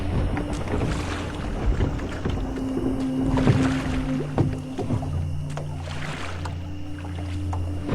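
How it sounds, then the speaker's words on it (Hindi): Oars work a wooden boat along a river at night in an animated story, with rhythmic splashes and creaks over wind and flowing water, backed by tense music. "बलबीर तेज तेज चप्पू चलाने लगा और नाव आगे बढ़ने लगी।"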